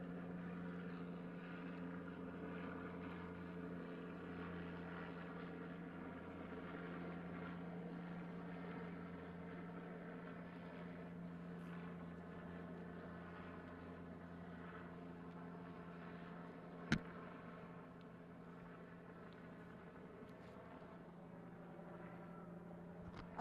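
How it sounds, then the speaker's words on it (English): A sheriff's helicopter circles overhead during a police standoff, giving a steady, continuous low rotor drone with a constant hum throughout and one brief sharp click near the end, with no talk. "There is a sheriff's helicopter circling and it's telling people to shelter in place."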